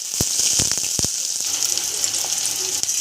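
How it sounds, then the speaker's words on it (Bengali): Two large chopped onions and bay leaves frying in hot mustard oil in a kadai, a steady loud sizzle with sharp crackles and pops clustered early, then a continuous hiss, with no talk. "পেঁয়াজটাকে ভালো করে ভেজে নিচ্ছি।"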